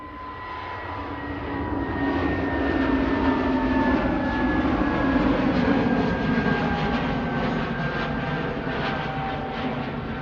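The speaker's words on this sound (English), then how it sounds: "EasyJet positioning down to Luton now. GUZLZ A320neo." EasyJet Airbus A320neo jet at Manchester Airport, a loud, continuous engine roar with a steady whine that drifts slowly in pitch as the aircraft passes close by, heard alone for about ten seconds.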